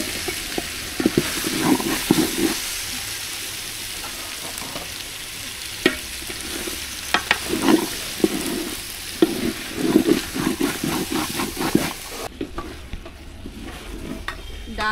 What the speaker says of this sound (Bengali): ডাল আর সবজি দিয়ে আমার ভালোভাবে কষানো হয়ে গেছে